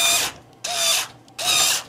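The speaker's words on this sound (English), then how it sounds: "We'll put the screws in loosely so we can slide the fans around and adjust them where we want them before we tighten them up." Screws are driven in loosely with a power driver to mount computer case fans, giving three short, close whirring bursts separated by brief pauses.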